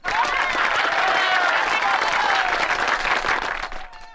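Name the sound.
audience applause in a Kannada film scene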